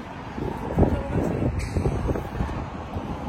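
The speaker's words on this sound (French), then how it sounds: "Il y a du vent." Steady wind rumbles and buffets the microphone, a low blustery roar that continues throughout with faint background voices.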